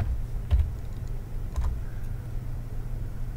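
Keys tapped on a computer keyboard while entering a value into Revit architecture software, a few soft, close clicks over a steady low background hum.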